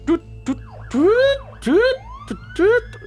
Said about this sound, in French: c'est les gyros qui arrivent en fait